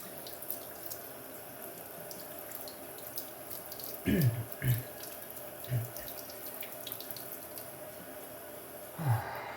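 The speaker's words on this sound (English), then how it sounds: "I'm just gonna rinse off the blade a little bit." A faucet runs into a sink while a straight razor blade is rinsed during honing, a steady soft water hiss with a few brief louder splashes and clinks near the middle and end.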